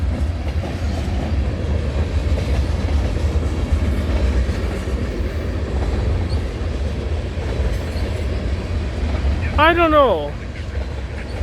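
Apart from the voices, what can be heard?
freight train passing a trackside detector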